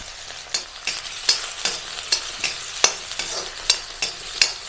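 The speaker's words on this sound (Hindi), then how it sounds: "इसे हल्का सा सॉटी कर लेंगे बस" Cumin, chopped green chili, finely diced carrot and capsicum sauté in hot oil. A steady sizzle runs throughout, broken by regular scraping stirs of a spoon against the pan about twice a second.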